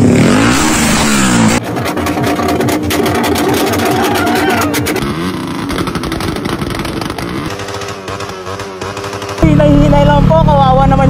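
A car engine revs hard and steadily, roaring up and down in pitch, loud and close throughout, with no talking over it.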